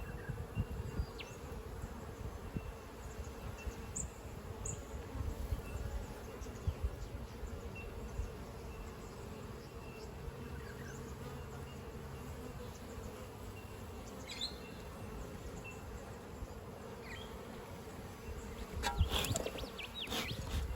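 Honeybees in an Australian apiary buzzing around the entrance of their hive, a faint, continuous swarm hum with individual bees droning past close by, growing a little louder near the end.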